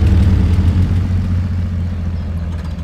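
Heavy truck engine in Spintires: MudRunner running with a loud, steady low rumble and faint clatter, holding an even idle throughout with no pause.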